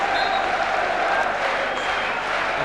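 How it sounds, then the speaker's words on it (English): Melbourne Croatia fans applaud at a football match, a steady wash of clapping and crowd noise that holds at an even level throughout. "to the warm applause of the Melbourne Croatia fans"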